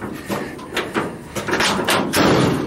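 A door on a rotten old 1956 chop-top oval VW Beetle is worked and pushed shut, giving a series of close, hard thumps and clunks over a few seconds.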